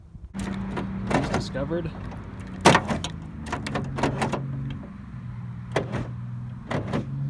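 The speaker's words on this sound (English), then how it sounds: "You can control the electronic door locks from the trunk" Electronic door locks on a 1993 Volvo 850 actuate from the trunk, several sharp mechanical clunks spaced irregularly with a low motor hum between them, close by, while someone talks over them.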